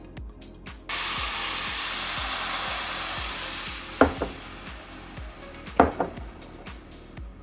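Red wine poured into a hot pan where beef was seared, bursting into a loud, steady hiss that carries on under a few sharp clinks of a utensil against the pan.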